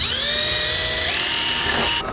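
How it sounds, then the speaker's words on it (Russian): A high-pitched power tool whines steadily while cutting a hole in a plastic panel inside a Lada Niva 21214, loud and close, its pitch shifting slightly partway through before it stops abruptly. "Сейчас вырезаем отверстие и ставим новую панельку."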